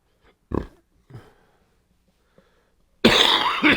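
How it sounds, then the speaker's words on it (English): Two short, sharp coughs from a nearby man, followed by a pause, a tiny click, then a burst of louder, broadband noise. "Sorry about the cough and that."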